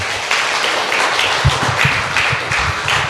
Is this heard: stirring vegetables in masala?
no